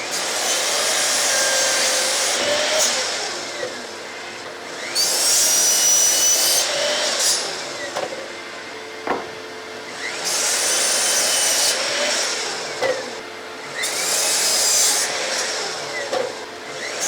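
A power saw cuts wooden pieces for a clamp rack in repeated passes, each a loud whining buzz lasting a couple of seconds, separated by short lulls with a brief thump.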